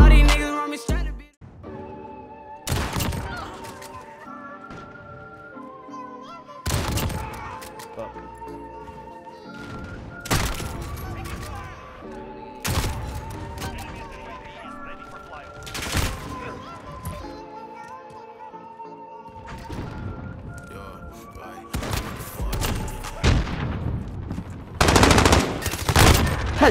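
Rapid, sustained gunfire in long bursts, loud and close, with repeated volleys and thuds and short pauses between them, while voices talk over parts of it.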